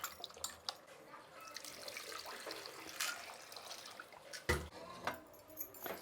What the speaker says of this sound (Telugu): ఒకసారి నీళ్ళు పోసి కడుక్కునేద్దామండి.